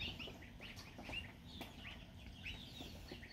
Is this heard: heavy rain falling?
no